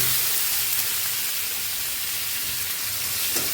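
Grated onion tipped into hot oil for a rui fish kaliya gives a steady, loud, dense sizzle that hisses without a break throughout.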